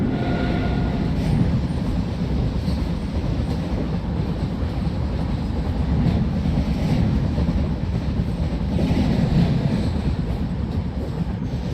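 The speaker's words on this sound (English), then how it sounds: "So one train is coming, I think." Steady rumble of the Secunderabad superfast express train rolling past in a train simulator game, a continuous loud low-frequency drone with faint rhythmic rail noise throughout.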